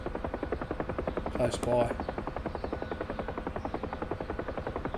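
Huey helicopter in DCS settling into a taxiing hover, its steady rotor chop pulsing evenly throughout with a brief swell of higher whine partway through; a voice speaks briefly over it.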